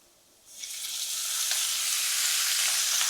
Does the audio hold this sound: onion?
yes